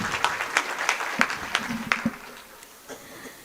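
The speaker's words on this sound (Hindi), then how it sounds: "एक बार ताली बजा दीजिए मैडम के लिए।" Brief burst of audience applause at a Hindi poetry gathering (kavi sammelan), scattered claps fading out after about two seconds, moderately loud with no voices over it.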